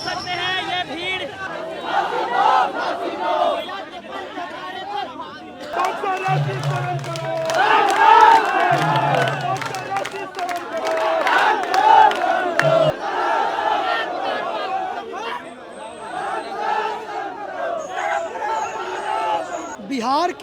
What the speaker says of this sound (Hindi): सारे लोग एकजुट हो गए। देखिए, आप देख सकते हैं ये भीड़।